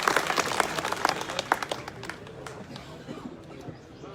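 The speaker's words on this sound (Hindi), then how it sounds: "तो एक बार इनका जोरदार तालियों से स्वागत करिए" Audience applause at an Apna Dal (S) political gathering in Lucknow, a dense burst of many hands clapping that starts strong and gradually thins out, with voices audible underneath.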